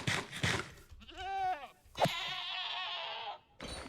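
A goat in Minecraft (FTB Skies modpack) bleats several times in short, wavering cries with brief gaps, clear and close, alone without talk.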